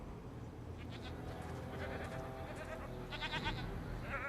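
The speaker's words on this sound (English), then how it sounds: "More goats." Goats bleat repeatedly in the video game Jade Empire, several nasal calls rising over a steady bed of ambient game sound and low rumble, fairly close and moderately loud.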